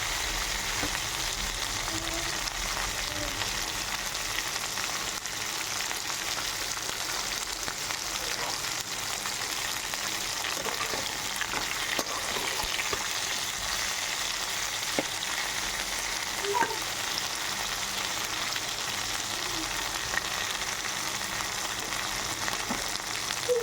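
Okra (bendakaya) fries in a pan with a continuous, even sizzle up close, with faint light stirring now and then.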